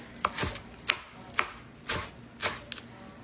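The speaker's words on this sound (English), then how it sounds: "Next, we're gonna mince up our cilantro." Fresh cilantro being minced with a knife on a cutting board: about five or six crisp, distinct chops spaced unevenly, close and clear with quiet pauses between and no talking.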